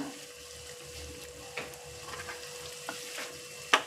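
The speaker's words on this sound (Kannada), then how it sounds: "ಚೆನ್ನಾಗಿ ಫ್ರೈ ಮಾಡ್ಕೋಬೇಕು." A tomato and rice mixture fries in a pan for tomato fried rice, giving a soft, low sizzle with a few scattered scrapes from stirring and one sharper clank of a utensil near the end.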